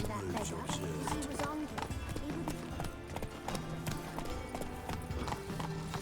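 Hooves clip-clop in a rapid gallop as Geralt's horse Roach runs in The Witcher 3, a steady rhythmic pounding under game music and spoken dialogue.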